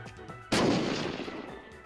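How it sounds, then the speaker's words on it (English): A grenade explodes in the online survival game Unturned with a sudden loud boom that cuts in mid-clip and rolls off into a long, fading rumble after a quieter stretch. "He threw a grenade at me."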